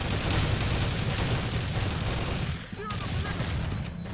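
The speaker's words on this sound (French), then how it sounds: "Putain, ça tire de partout." Gunfire coming from every side in Soldier of Fortune 2, heard as a dense, loud wall of shooting and blasts that keeps going almost without a break while someone talks over it.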